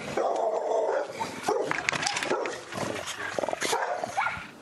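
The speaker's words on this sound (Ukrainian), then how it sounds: "Це ті самі собаки, які розірвали Дану і накинулись на Івана Атамася." Several dogs bark loudly and repeatedly at close range, with rough growling between the barks over a steady noisy background.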